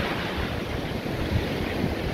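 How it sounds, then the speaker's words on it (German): Sea surf roars steadily on the windy coast at Tarifa by the Strait of Gibraltar, a dense unbroken wash of breaking waves mixed with wind rumble against the microphone, with no voices. "Ja, das Meer braust ordentlich."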